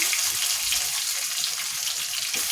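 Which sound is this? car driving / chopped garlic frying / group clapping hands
chopped garlic frying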